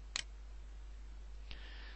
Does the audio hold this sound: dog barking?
no